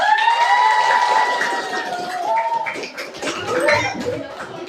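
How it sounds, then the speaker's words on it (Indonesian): A school class applauds and cheers after a student storytelling presentation in a classroom, children's shouts and high voices mixing with clapping, loud and close, tapering then swelling again. "Kasih tepuk tangan dulu."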